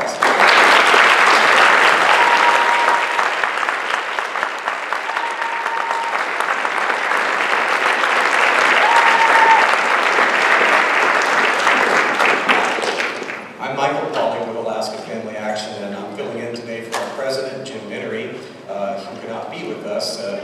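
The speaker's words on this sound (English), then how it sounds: "would you all please give them a round of applause?" An audience at a debate applauds its Republican U.S. Senate candidates with a long, loud, even round of clapping that drops away abruptly near the end as a voice begins talking over the room.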